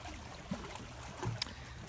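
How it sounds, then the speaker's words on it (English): Steady broadband wash of water moving in Sturgeon Bay below the Hunter Cabin Bridge, low and continuous with a faint rumble and a couple of soft knocks, no voices. "So you can hear the water"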